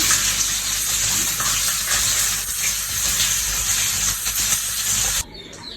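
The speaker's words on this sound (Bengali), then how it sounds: "এখন আমি মাছটাকে আর বেগুনটাকে ভেজে নেব ভালো করে" Fish and eggplant pieces sizzle loudly in oil in a frying pan, a steady, close hiss of frying that runs for about five seconds before dropping away.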